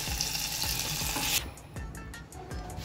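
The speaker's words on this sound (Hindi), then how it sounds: "जितने हमारा मसाला भुन रहा है उतने हम अपने काजुओं को थोड़ा सा फ्राई कर लेते हैं" Ground onion and tomato masala paste frying in a kadhai, a soft hissing sizzle with rhythmic scraping stirs at regular intervals, the bright hiss dropping away partway through; quiet and close.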